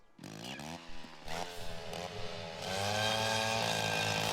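A cartoon chainsaw from the show My Little Pony revs up in several bursts, then holds a loud, sustained high-pitched whine, close by.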